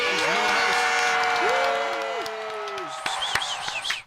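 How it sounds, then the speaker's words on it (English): An audience applauds for a guest named Sheens: a steady roar of clapping and crowd noise under talking voices, thinning toward the end as a higher voice cuts in. "Let's give it a round of applause for Sheens"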